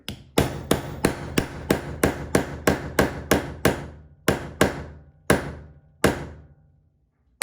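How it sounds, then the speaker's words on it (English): A steady run of sharp hammer blows driving a part into an RC car differential, about a dozen evenly spaced strikes that slow and thin out toward the end, with no talking. "As you're hammering"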